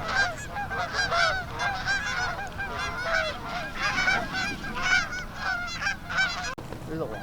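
A flock of Canada geese honks constantly over an alfalfa field during a Wisconsin goose hunt, many overlapping calls close and loud, continuing without pause with a sharp click near the end.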